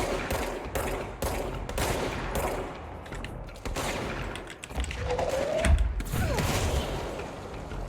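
A longer-range gun in the game Control fires repeated sharp shots in irregular bursts, with mechanical clanks and a brief whoosh between them, close and loud.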